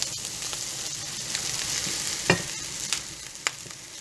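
Rice poured into a hot pot gives a steady close hiss of sizzling, with a few sharp scraping stir clicks, and no voices.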